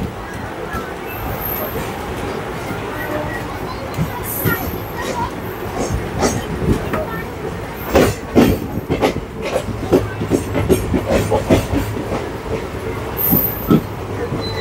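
Riding aboard the Maa Tara Express from Sealdah to Rampurhat as it pulls out of Prantik station: steady rumble with rhythmic wheel clacks and rattling joints, growing busier, loud and close, with a voice talking over it.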